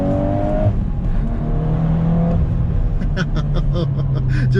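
A 2022 VW Golf R engine blips and revs as it is driven hard through a heel-toe downshift, the pitch jumping and falling close up over steady road and engine roar.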